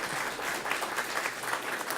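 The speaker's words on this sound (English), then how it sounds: "Let's give our candidates a big round of applause for their efforts." Steady audience applause at a Denver candidate forum for District 5, a dense continuous patter of clapping hands filling the whole stretch without pause.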